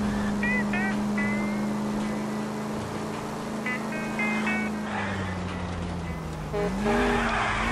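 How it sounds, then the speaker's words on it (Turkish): An old police car in L.A. Noire drifts through a turn, its tires squealing in long, wavering shrieks over a steady engine drone, loud and close, with someone talking over it. "Çok güzel drift attım ha."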